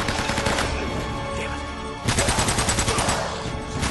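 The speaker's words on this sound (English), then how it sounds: "that blind fire be coming in handy" Blind-fire gunshots in the video game Uncharted: Drake's Fortune ring out as a dense, loud string of rapid shots, pausing briefly and then resuming in a quick rattling volley.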